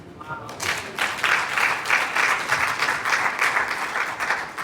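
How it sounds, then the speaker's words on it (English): An audience claps during a talk, a sustained patter of many hands that swells in after a short spoken phrase and continues at moderate loudness, slightly uneven, to the end. "Thank you for clapping"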